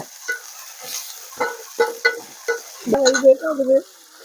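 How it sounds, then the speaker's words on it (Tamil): Onions, tomatoes and green chillies sauté for a chickpea curry, with a series of short, regular stirring scrapes and clacks. A tonal, voice-like stretch rises near the end. "கடலைக்கறிக்கு வெங்காயம் தக்காளி பச்சை மிளகாய் எல்லாமே வதக்கிட்டே இருக்குங்க"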